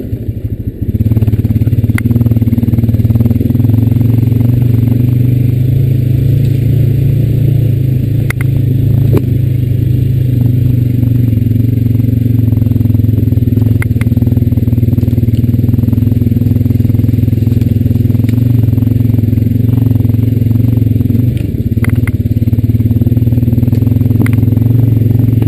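A Honda Rancher 420AT ATV engine drones steadily for the whole stretch while riding down a wooded path, a close, loud mid-range motor note with light clatter and small shifts in throttle.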